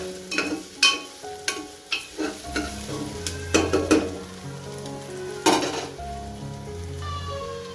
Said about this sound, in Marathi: थोडा फ्राय करायचा मस्त एकदम व्यवस्थित.